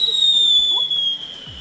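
Fireworks and firecrackers going off outdoors in Twente, a loud whistling rocket streak followed by scattered crackling bursts at close to middle distance.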